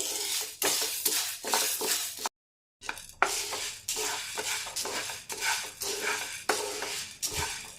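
Small dry mung beans rattle and hiss in a pan as they roast, a spoon stirring them steadily, scraping metal, with a brief silent gap partway through.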